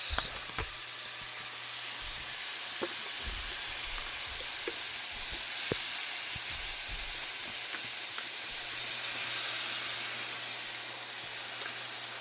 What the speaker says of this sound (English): And then we're gonna put a little bit of soy sauce.